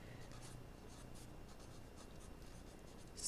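A pen moves over paper in brief, soft scratching strokes, very quiet and close, with a faint hiss throughout.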